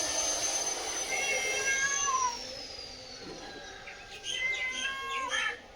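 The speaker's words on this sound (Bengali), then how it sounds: "এদিকে বিড়াল ডাকছে অনিমা।" A hungry cat meows repeatedly as fish are cleaned and scaled at home, its drawn-out wavering cries fairly close and rising over faint bird chirps, with someone speaking at times.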